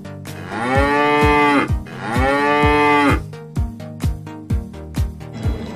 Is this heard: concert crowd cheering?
no